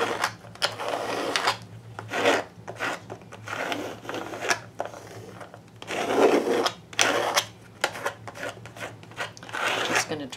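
Scratchy, rhythmic rubbing strokes of a brush dragging paint across a textured fabric book page, close up, repeating in bursts with a steady low hum beneath.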